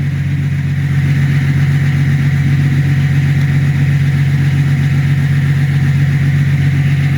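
A BMW 325 tds diesel engine idles steadily after a restart, giving a loud, even, close-up rumble with a constant low hum that runs unbroken from start to finish.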